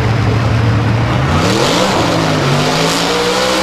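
A Camaro drag race car at an ANRA 2008 Spring Nationals qualifying event accelerates hard, its engine roaring loud and close as the pitch climbs steadily through the run.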